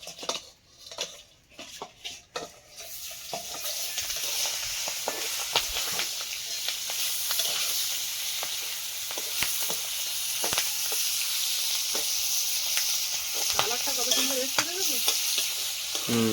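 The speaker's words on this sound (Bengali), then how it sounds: "হালকা ভেজে নিয়েছি চিংড়িগুলো" Giant freshwater prawns sizzle in hot oil with a loud, continuous hiss, broken by stirring and the clatter of a utensil against the pan.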